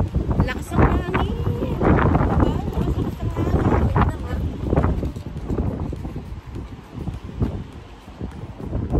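Strong wind outdoors buffets the microphone in loud, uneven gusts and rumbles, while people talk intermittently over it.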